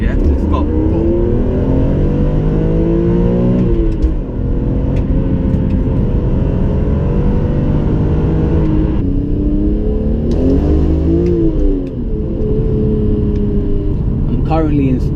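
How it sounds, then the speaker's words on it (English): Loud BMW E46 M3 engine revving and pulling hard through rising and falling pitch sweeps, heard from inside the car in sports mode, with a voice talking over it. "Check the way this car pulls"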